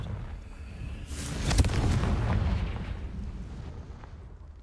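A Confringo fire spell bursts in the Hogwarts Legacy video game, a single booming blast that swells and rumbles for a couple of seconds before fading into a low ambient bed.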